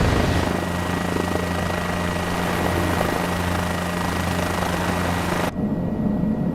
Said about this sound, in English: one thing I will say about this helicopter is it's quiet